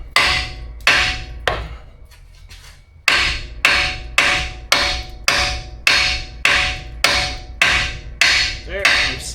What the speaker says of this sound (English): you can kind of just give a little love tap on your control arm